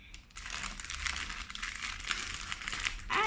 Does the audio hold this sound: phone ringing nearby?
no